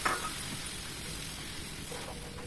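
Tomato juice sizzling in a pan of frying okra masala, a steady close hiss and crackle that runs without a break, with no voices over it.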